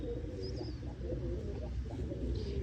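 Pigeons at a large pigeon sale in Tarn Taran coo in low, soft, repeated murmurs that overlap steadily throughout, with no voices.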